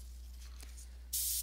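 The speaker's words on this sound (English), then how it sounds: "I'm going to give myself a few last sprays of this yellow here in a few places till it basically runs out" A Badger airbrush spraying yellow paint onto a half-scale bust gives a short, sharp burst of hiss near the end, loud and close, after a quiet stretch with a low steady hum.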